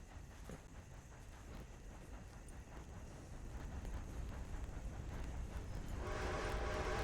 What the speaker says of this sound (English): I can't hear with the train.